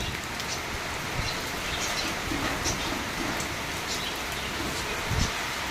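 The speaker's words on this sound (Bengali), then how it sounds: "দেখো কি ঝড় বৃষ্টি হচ্ছে।" Stormy rain falls outside in a steady, dense hiss of drops on surfaces, with a few faint distant bird calls and no talk.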